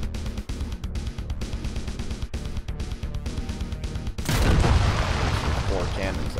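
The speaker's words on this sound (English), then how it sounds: "Four cannons that fire downwards." Downward-firing cannons on a remote-controlled attack drone in the building game Trailmakers blast in a busy run of sharp booming shots, then swell into a louder, denser burst of gunfire near the end.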